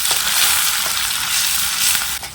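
Chopped onions and a chili, turmeric and garlic paste fry in a kadhai for pahadi home cooking, giving a loud, steady sizzle and crackle that runs unbroken throughout.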